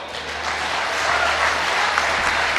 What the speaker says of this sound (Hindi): तालियां कम बजा रहे हैं आप लोग।